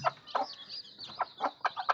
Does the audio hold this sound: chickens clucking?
yes